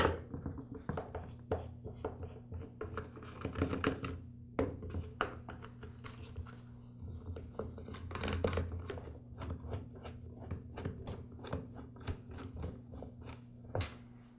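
Screws being backed out of the motor housing of a Weed Eater XT10 string trimmer: quiet, scattered clicks and small scraping ticks over a low steady hum, with no talking.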